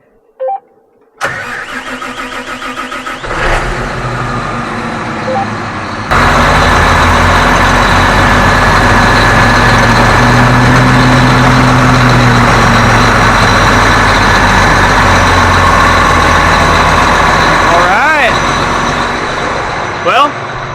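A tractor engine cranks and catches, then runs loudly and steadily with a deep, rough drone; brief voices are heard near the start.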